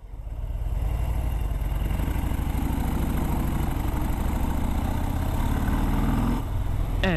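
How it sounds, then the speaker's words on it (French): A 2018 Harley-Davidson Breakout motorcycle pulling hard in third gear, its engine a loud, steady low rumble that builds quickly and holds throughout, with a brief shift in tone near the end. "vous avez vu la facilité à laquelle la moto est partie?"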